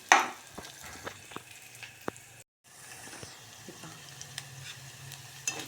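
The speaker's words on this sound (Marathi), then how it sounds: "त्याला चांगलं तळू द्यायचं." Potatoes, cumin and a ground mixture frying in a pan for bhagar khichdi, with a soft steady sizzle and scattered clicks and scrapes of stirring close by, then a brief dropout before the sizzle continues.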